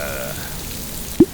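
Sudden storm rain hisses steadily on a surface, with a faint tone fading early and a single sharp knock near the end.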